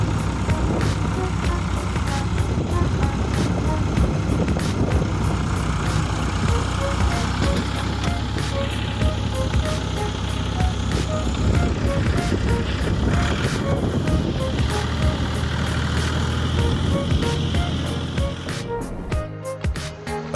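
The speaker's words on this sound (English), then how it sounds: "The New Holland TD100 with an FPT4 cylinder turbo engine and 110 horsepower is like a strongman, yet it still struggles to conquer this stubborn swamp" Diesel drone of a New Holland TD100 tractor with a 110-horsepower four-cylinder FPT turbo engine bogging in swamp mud, a loud sustained labouring rumble that rises and strains before fading near the end.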